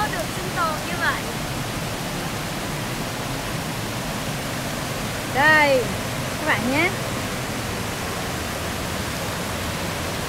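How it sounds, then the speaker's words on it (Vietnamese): Forest stream and waterfall in the Central Highlands, a steady loud broadband rush filling the scene, with birds chirping briefly and a person speaking over it. "Nghe tiếng suối, nghe tiếng chim, nghe tiếng rừng núi."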